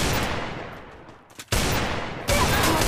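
Bursts of gunfire in the mobile battle royale game Free Fire: a sustained rattle that fades out, a brief gap, then two renewed loud volleys back to back.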